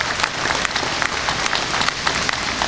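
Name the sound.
applause for local and state elected officials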